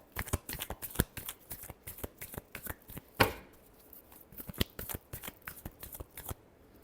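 Tarot cards shuffle by hand in a quick, close, rhythmic series of papery riffles and flicks, with one sharper snap partway through, quiet and with no voice.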